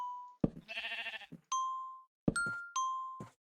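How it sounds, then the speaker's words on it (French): A two-tone electronic doorbell chime in Minecraft rings twice, bright and clear, after a brief burst of bleating game noise. "Voici le système de sonnette."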